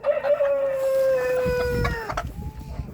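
A backyard hen looking for a place to lay lets out a drawn-out, wavering call close by, followed by short clucks and some shuffling noise.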